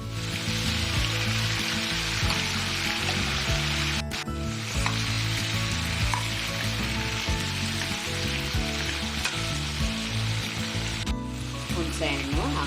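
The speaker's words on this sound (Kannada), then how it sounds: "ಈಗ ಇದು 10 ಮಿನಿಟ್ಸ್ ಫ್ರೈ ಆಗಿದೆ. ಇದಕ್ಕೆ ಟೊಮೆಟೊನು ಸೇರಿಸ್ತಾ ಇದ್ದೀನಿ." Ridge gourd and tomato fry in a pan for chutney, a dense, continuous sizzle with occasional stirring scrapes and brief gaps, loud and close throughout.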